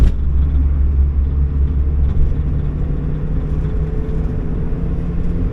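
A 1991 Mazda Miata with a 5-speed pulls hard through a turn on rural roads, a steady low engine drone and road rumble from inside the cabin, with no talking.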